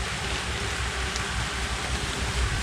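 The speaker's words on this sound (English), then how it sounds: "rainy carving day, or carving in the rain." Rain falling outdoors on a stormy day at a woodcarving spot, a steady dense hiss of drops with low rumbling underneath, continuous and fairly loud with no voices.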